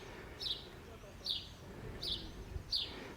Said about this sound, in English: in my space at the moment there is a gorgeous bird song